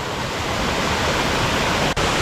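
Steady, loud rush of water pouring over green moss at a small shrine-like spot with a hanging crucifix in Romania, a continuous broadband flow with one brief dropout near the end.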